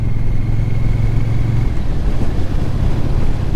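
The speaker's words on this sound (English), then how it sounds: "It seems to work okay with the wind noise." Steady, loud wind buffeting and low engine drone while riding a 2025 Triumph Bonneville T120 motorcycle, continuous throughout with no talk.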